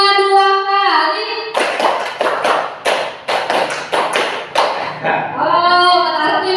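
A group claps in counted bursts, sharp overlapping hand claps repeated in quick patterns, loud and close, with voices before and after.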